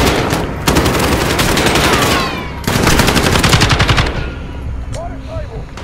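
Automatic gunfire in the Call of Duty Modern Warfare campaign: two long, loud, dense bursts of rapid shots, a pause between them, then quieter scattered game sounds.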